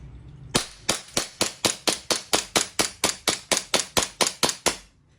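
EMG Strike Industries Glock 17 gas airsoft pistol with CNC parts fires about sixteen sharp, evenly spaced cracks in rapid succession, loud and close, each shot ringing out cleanly with no voices.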